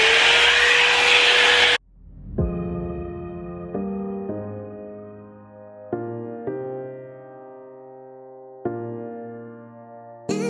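A Revlon hot air brush drying curly hair gives a loud, close, breathy blowing roar for under two seconds. It cuts off abruptly and a light musical passage plays alone afterward.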